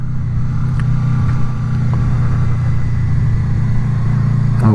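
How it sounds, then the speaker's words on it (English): A Honda VFR800 motorcycle engine while riding, a loud steady low drone close by with slight rises in pitch and a constant wind-like rush, no talk. "Out for a ride on the bike"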